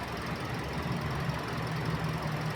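Toyota Vios engine runs smoothly at a steady, quiet idle, a low continuous hum with a faint higher whine over it and no voices.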